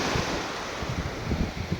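Calm sea at Marbella, Spain, with a steady wash of gentle surf and low rolling swells, a continuous broad hiss with some wind buffeting on the microphone.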